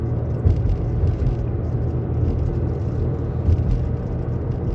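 A minivan camper being driven on the road, with a steady low engine and road rumble and a constant tire hum, close and continuous with no talking.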